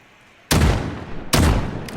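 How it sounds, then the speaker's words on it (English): Two loud shotgun blasts from Call of Duty Modern Warfare, the first after a short quiet lead-in and the second close behind it, each a sharp burst with a long ringing decay and no voices. "But you can shoot the gun really fast"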